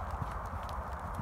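A pony circling on the lunge gives a steady, close rhythm of hoof clops on the ground, with a continuous low rumble of movement underneath.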